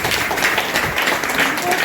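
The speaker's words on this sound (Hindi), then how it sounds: "एक जोरदार ताली मिलता है" Audience clapping at a Hindi-language health talk on herbal remedies, a steady wash of applause filling the whole moment with no break.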